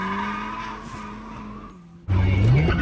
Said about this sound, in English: here we go, actually street drifting it